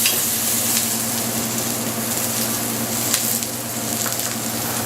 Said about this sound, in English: We add about half of the onion to the hot pan.